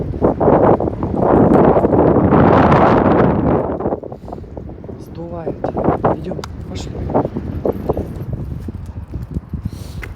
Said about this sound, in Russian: Ветер, конечно, кошмар просто ужас.